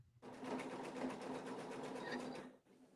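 An embroidery machine stitches out a mug rug, making a steady close whirring drone with a rapid needle rhythm for about two and a half seconds before cutting off.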